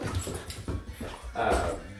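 A dog with the zoomies in a home kitchen where fried rice is being cooked whimpers and yips in short, restless bursts, close and fairly loud over a constant background noise.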